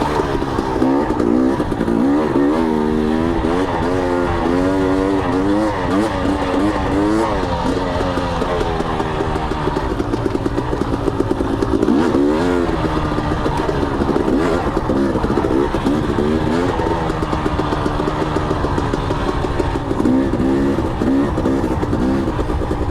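A 250cc two-stroke motorcycle rides steadily in third gear, its engine note loud and continuous with a rising and falling buzzing pitch as the throttle shifts, and wind noise runs underneath throughout.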